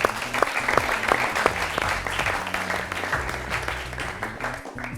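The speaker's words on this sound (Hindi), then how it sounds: "टैगोर इंटरनेशनल के लिए जोरदार तालियां।" Studio audience at a televised Olympic-themed quiz show claps loudly for a school team, a thick, continuous burst of applause with sharp individual claps standing out and no voices over it.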